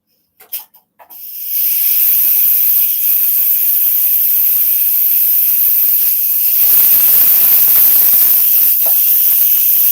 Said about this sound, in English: I gotta go and get the steam out of the Instant Pot.